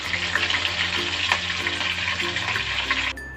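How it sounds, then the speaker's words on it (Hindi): Garlic and green chillies fry in oil, a steady close sizzle with some bubbling crackle that runs for about three seconds and then drops off sharply near the end. "ये मैं लहसुन और हरी मिर्चें गार्निशिंग के लिए फ्राई कर रही हूँ।"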